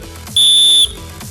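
Whistle at a school sports day event gives one sharp, piercing blast of about half a second, loud and close, standing clearly above the quiet background.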